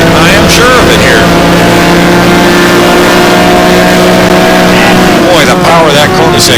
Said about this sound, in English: the power of that Koenigsegg down the straight